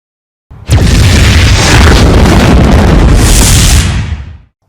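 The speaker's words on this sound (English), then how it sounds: "This morning, they dropped an atomic bomb on the Oregon State Capitol building." An atomic bomb bursts over the Oregon State Capitol building: a sudden, very loud blast that swells into a sustained roaring boom for several seconds before cutting away.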